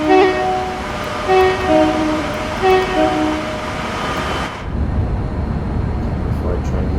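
A Pendolino electric train on the West Coast Main Line in a train simulator game runs with a steady rumbling roar and repeated tonal horn-like notes, then the sound cuts to a lower, duller rumble.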